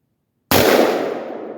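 A single loud, sharp AR-15 rifle shot cracks out after a moment of silence, then its echo tails off over about a second.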